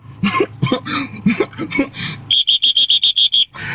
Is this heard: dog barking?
no